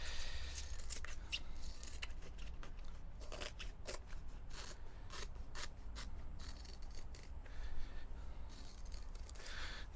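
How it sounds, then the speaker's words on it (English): Scissors snipping around an orthotic insole template, a steady run of close, crisp cuts and crunchy rubs repeating throughout with no talking. "we'll trim it up with our scissors."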